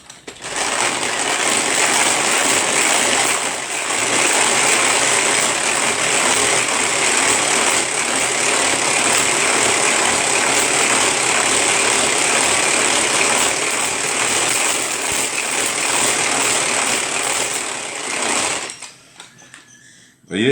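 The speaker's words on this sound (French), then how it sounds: "Et on vient monter ces blancs en neige avec le Speedy Chef." A Speedy Chef electric mixer whips egg whites into foam for a chocolate Japanese soufflé, a loud continuous whirring buzz that holds steady for most of the clip before cutting off near the end.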